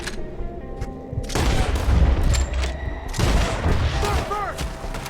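Gunfire in a Red Dead Redemption 2 shootout: loud bursts of rapid shots and booming blasts that build into a dense volley, with voices shouting over the fight.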